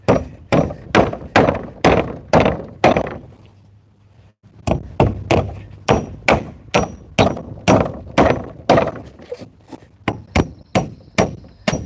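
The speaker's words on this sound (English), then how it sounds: "This nail's already crooked, so I'm doing this putting a little English on my hammer strikes." Repeated hammer blows drive a crooked nail during a fence-building project, loud sharp strikes in a steady rhythm, a run of seven, a brief pause, then about fifteen more in quick succession, close up with no talking.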